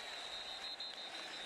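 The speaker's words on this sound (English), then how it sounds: "Listen to this crowd on 3rd and 3" A college football stadium crowd at Alabama vs Florida State roars on third and three, a dense, loud wash of cheering that holds steady throughout the short moment.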